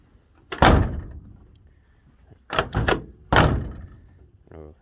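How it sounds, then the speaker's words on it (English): Door closing on a rusty 1966 Chevy C10 pickup with a deteriorated cab mount: three loud, close metallic slams and thunks spaced a couple of seconds apart, with a faint rattle at the end. "take a look at this when I close the door"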